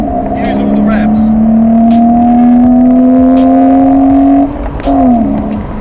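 A fast car's engine climbs steadily through its full rev range in one long, loud pull, then drops briefly as the gear changes and picks up again, heard from inside the car.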